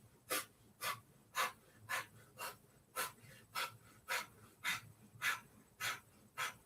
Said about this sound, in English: So like you're a panting dog.